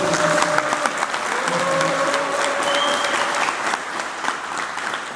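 Sustained applause from a crowd at a Seongnam civic football club rally, steady and fairly loud, with a few faint voices carrying over the clapping.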